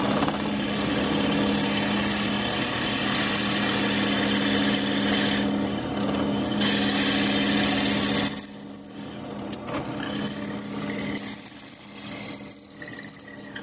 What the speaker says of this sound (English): we'll just drill that hole down as far as we can get it